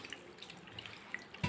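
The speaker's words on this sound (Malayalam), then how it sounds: "തണുത്ത ഐസ് വെള്ളം ഒഴിച്ചു." Cold ice water is poured into a bowl of jackfruit rice gruel mixed with curd and coconut chutney. It is a brief, faint trickle with a few small drips, ending in a soft splash, and no one speaks.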